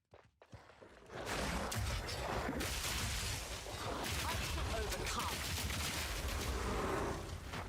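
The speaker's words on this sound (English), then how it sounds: "The explosions are so satisfying." Explosions in the action game Path of Exile 2, a dense barrage of blasts and crackling bursts that starts after a brief quiet moment and keeps rolling loudly without pause to the end.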